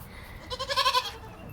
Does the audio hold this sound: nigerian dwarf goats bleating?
yes